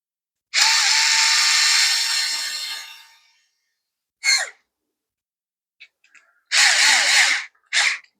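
Power drill driving a screw for a Lowrance Active Target transducer bulkhead mount, a long whirring burst that winds down, then a short pulse and two more bursts, close and loud.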